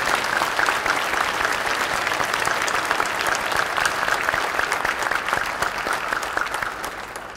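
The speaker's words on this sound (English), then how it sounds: "please give me a round of applause for these students" An audience at a CTE awards program gives students a long, steady round of applause, dense and continuous throughout before easing slightly at the end.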